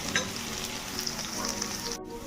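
Garlic fries in hot oil for restaurant-style chilli cauliflower, a steady close sizzle with small crackles and no voices, cut off briefly near the end.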